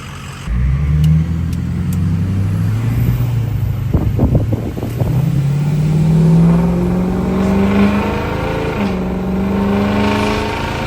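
A vehicle with a newly installed Rough Country steering stabilizer drives along, its engine revving up through rising gear tones. Wind buffets the microphone, and a few brief rattles come partway through.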